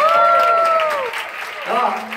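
Applause from a crowd at a Thai band's cover performance at a gathering, moderate clapping under sustained tones and a voice, the claps thinning toward the end.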